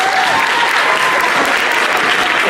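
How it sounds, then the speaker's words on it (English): Audience applause at a middle school American history tournament championship, a dense, steady wash of clapping from a crowd in the stands, loud and close throughout. "Give her a round of applause"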